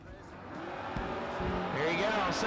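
Drag racing cars, a Plymouth Duster and a Jeep, launch at a no-box open race. Engines rise in pitch from a low rumble to a building roar, with tire noise as the cars pull away, under a track announcer's commentary.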